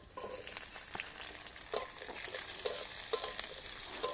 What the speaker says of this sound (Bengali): আমরা 5 ফোড়ন আর তেজপাতাটাকে ভালো করে লাল লাল করে ভেজে নেব